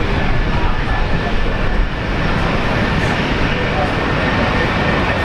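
A Jetstar jet airliner on its takeoff roll gives off a loud, continuous broadband roar that holds steady throughout, with no voices.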